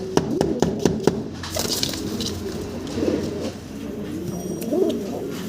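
Pigeons coo repeatedly in low, throaty rolls, close by, with a few sharp taps at the start and steady background noise.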